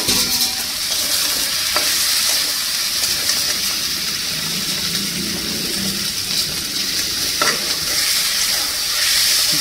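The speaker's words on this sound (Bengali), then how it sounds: "এর মধ্যে এবার আলুটাও দিয়ে দিই বন্ধুরা, যেটা আলু সহ মশলাটা কষাতে থাকবো" Potatoes sauté in masala for a catla fish curry, giving a loud, continuous sizzle with occasional stirring scrapes and knocks against the pan. No one speaks.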